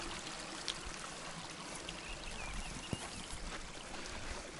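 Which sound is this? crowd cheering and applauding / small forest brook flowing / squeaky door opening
small forest brook flowing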